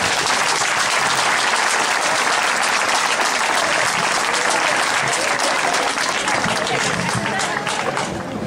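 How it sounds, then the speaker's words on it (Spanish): A concert audience at an evening of pasodobles in Brozas gives steady, dense applause that stays loud and close for the whole stretch, then eases slightly at the end. "Un fuerte aplauso para ellos."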